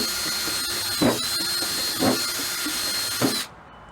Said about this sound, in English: We're going to use our drill to drill a bunch of holes in the bottom.